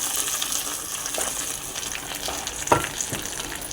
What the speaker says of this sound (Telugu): రసంలోకి తాలింపు వేసేసుకున్నామండి